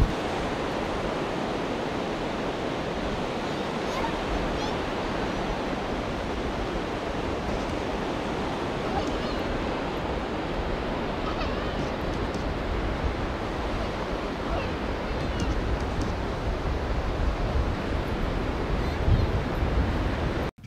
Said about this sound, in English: The wind, it's always so windy when we do this.